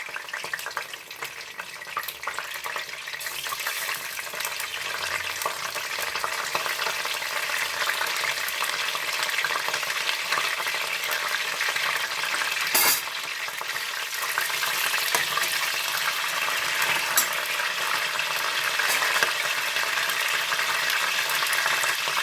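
Curry leaves crackle and sizzle in hot oil while a tangy fish curry is made, a steady close hiss lasting throughout with a brief sharp spike partway through and no voices.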